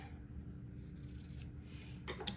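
Fine batiste fabric being trimmed with scissors along an entredeux beading edge: a few quiet, close snips near the end over a faint steady background, with no voices.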